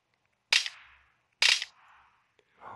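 Two sharp gunshots from a rifle in the mobile battle royale game PUBG Mobile, about a second apart, each with a short decaying tail, followed by a faint click and a softer rustle.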